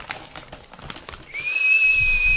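A person whistles one steady, thin sustained note that rises out of low background noise partway through and holds to the end, moderately loud and close.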